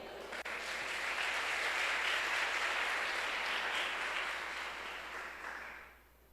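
A church congregation applauds together, a dense, even wash of clapping that swells quickly, holds steady for several seconds, then fades out toward the end.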